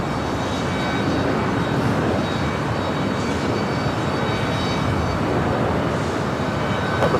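An Alaska Boeing 737-900ER taxiing at LAX toward Terminal 6 after arriving from Portland, a steady, loud jet engine roar and hum that stays constant throughout, with no voices.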